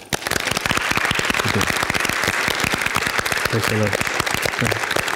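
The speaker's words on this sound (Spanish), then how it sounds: "Un aplauso al Señor Jesucristo" Loud, brisk applause from a church congregation praising Jesus, rapid close claps throughout, with a voice speaking over it partway through.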